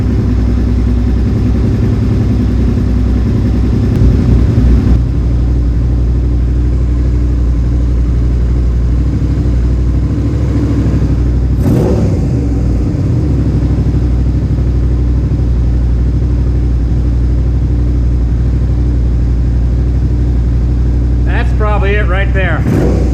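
A Suzuki SV650S motorcycle engine idles loudly and steadily during carburetor synchronization, a constant close-up drone with a slight throttle blip midway and voices talking over it.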